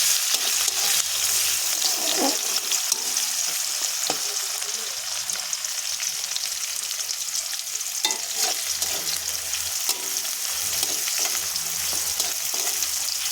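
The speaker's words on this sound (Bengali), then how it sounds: "পেঁয়াজ কুচিটা দিয়ে একটু নাড়াচাড়া করে নিলাম" Chopped onion sizzles steadily in hot oil with cumin seeds in a pan, stirred now and then with soft scraping clicks, a continuous close frying hiss with no talk.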